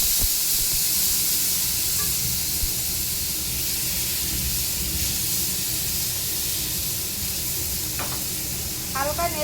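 Radish pieces go into a hot pan in a home kitchen and sizzle with a loud, continuous frying hiss that holds steady from start to finish, while a voice briefly cuts in near the end.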